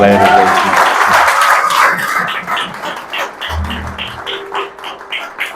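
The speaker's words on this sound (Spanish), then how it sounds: "Denle un aplauso al Señor." Church congregation applauds during a sermon, a thick burst of clapping at first that thins into lighter scattered claps as a voice speaks over it.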